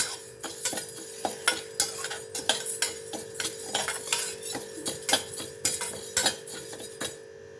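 Moong dal and toor dal dry roasting in a pan, stirred with a spoon that scrapes and clinks against the metal in a busy, regular rhythm, close and moderately loud with a faint dry rustle of lentils.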